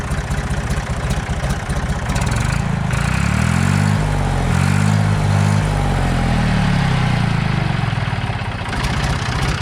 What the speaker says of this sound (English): It's a great running tractor.